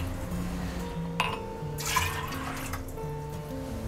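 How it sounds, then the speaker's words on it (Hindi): Water pours into a pressure cooker holding lentils and kidney beans for dal makhani, a brief splashing rush near the middle over steady kitchen background music, with a light clink just before. "कप से दो कप पानी डालेंगे"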